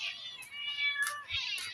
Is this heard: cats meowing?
yes